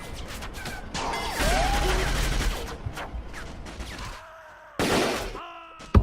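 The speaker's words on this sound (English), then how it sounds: "We don't need the machine gun, but we might as well use the damn thing." In the Vietnam War game Battlefield Vietnam, machine gun fire crackles in rapid loud bursts mixed with crashes and impacts, fading briefly before another sharp burst, and a voice is faintly heard.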